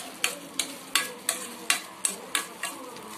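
Spicy masala dosa mixture being stirred in a hot pan, with a steady run of about eight scraping strokes over a soft sizzle, close and moderately loud, no voices.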